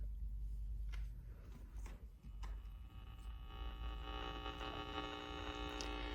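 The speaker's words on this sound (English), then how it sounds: "this is what a modified sine wave sounds like" A modified sine wave inverter on an Allpowers R600 LiFePO4 portable power station gives a steady electrical hum with a buzzy, harmonic-rich drone throughout, close and constant, with a fan spinning and faint ticking noises early on.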